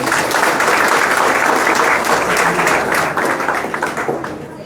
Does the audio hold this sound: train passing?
no